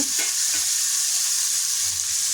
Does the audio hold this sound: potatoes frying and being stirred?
yes